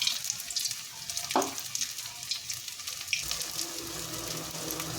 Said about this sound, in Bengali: সাবধানে আরেকটা পাশ উল্টে নেব, যাতে দুটো পাশই সুন্দরভাবে ভাজা হয়ে যায়